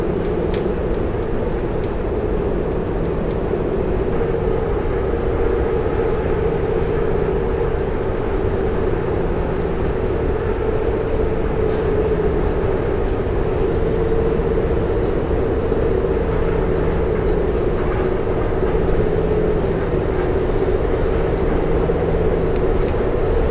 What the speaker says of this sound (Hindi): भारत की सबसे फास्टेस्ट ट्रेन जो है रैपिड रेल